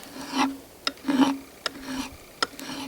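Hand file rasping along a knife spine outdoors, with several slow scraping strokes spaced by brief pauses and a few sharp ticks between them, fairly quiet and close.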